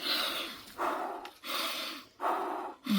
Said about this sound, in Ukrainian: Дихаю спочатку.